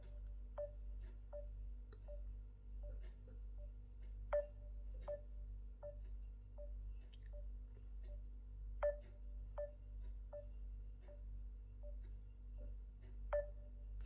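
A phone being dialed to place a call gives a series of short, faint keypad beeps at an irregular, unhurried pace, close by in an otherwise quiet room.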